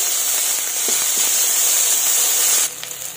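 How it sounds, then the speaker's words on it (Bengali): Cumin, ginger paste and chopped tomato sizzling in hot oil with a bay leaf and cardamom, a loud, continuous hissing fry that is close and steady, then changes in texture near the end as the pan settles. "এবার এর মধ্যে দিয়ে দিচ্ছি জিরে, আদা বাটা, টমেটো কুচি"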